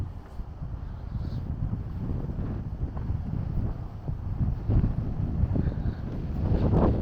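Strong wind gusting steadily around a tent pitched beside a lake at a campsite in Victoria, Australia, a loud continuous roar of buffeting and microphone rumble throughout.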